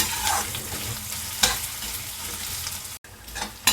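Onions sizzling and frying in a pan for kadhi, stirred steadily with a spoon, with a couple of sharper scrapes against the pan and a brief pause near the end.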